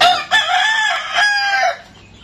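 A three-month-old Boston Roundhead rooster gives one loud, close crow, a young and slightly strained call that rises and holds before cutting off.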